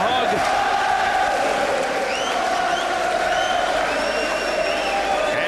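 A sellout boxing arena crowd of about 6,000 at Bray cheers and applauds Scott Harrison, a dense, loud, continuous roar with whistles cutting through it.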